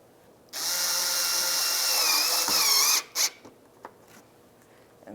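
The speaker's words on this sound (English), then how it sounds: "And I'll put the screw in." A power drill spins up loudly and runs steadily for a few seconds, driving a screw into the inner fender liner of a 2002-2006 Nissan Altima, then stops, followed by a few small clicks and knocks.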